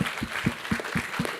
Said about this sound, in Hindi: इस टीम के लिए एक बार जोरदार तालियां हो जाएं.